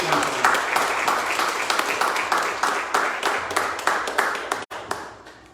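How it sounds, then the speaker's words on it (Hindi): Congregation clapping during a Sunday church service, loud and close, with distinct rhythmic claps over a steady wash of applause that breaks off briefly near the end. "तालियां जनाब यीशु के"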